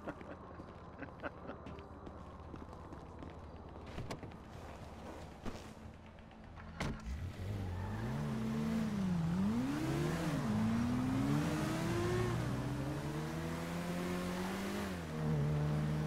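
A car in Grand Theft Auto V starts up and drives, the engine revving in rising and falling sweeps, loud and near after a quieter stretch of scattered knocks and ambient game sound.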